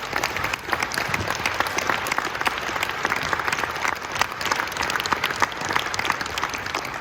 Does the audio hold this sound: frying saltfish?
no